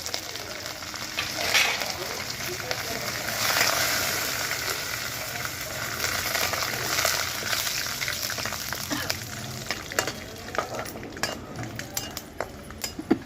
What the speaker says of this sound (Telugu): ఇదిగోండి కరివేపాకు వేస్తున్నాను